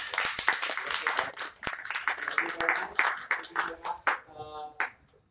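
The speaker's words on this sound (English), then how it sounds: "Give applause for that." A small group claps at a design discourse session, scattered hand claps building and then thinning out to a few last claps before it stops.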